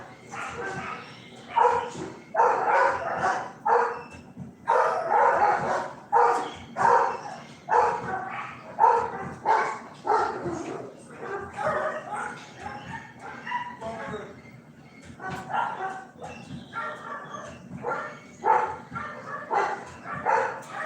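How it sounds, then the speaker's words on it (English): Dogs bark outdoors in a steady series of sharp barks and yips, heard at a moderate distance while someone talks over them almost continuously. "all of a sudden the dogs are really just going nuts out there"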